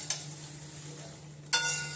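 Puffed grain being stirred in a hot pan for tempering gives a soft dry scraping and sizzle, with a sharp louder burst of stirring near the end under a steady low hum.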